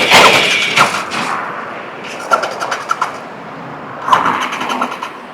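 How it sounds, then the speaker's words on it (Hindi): A GT650 motorcycle engine with its fuel run out is cranked several times in short, rattling bursts with pauses between, sputtering without settling into a steady run. "अब मैं फिर से आपको इग्निशन देकर दिखाता हूँ"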